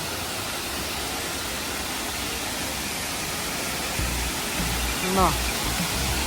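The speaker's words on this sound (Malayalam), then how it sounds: "നല്ല സൗണ്ടിലാണ് നമ്മളെ വെള്ളച്ചാട്ടം കേൾക്കുന്നത്" Alakapuri waterfall in Kannur roars as a dense, unbroken wash of rushing water, loud and even throughout, with a faint voice surfacing briefly near the end.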